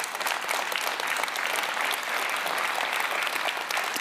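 An audience at a varsity luncheon applauds, a steady dense wash of clapping from a large crowd, fairly close, lasting throughout without talk.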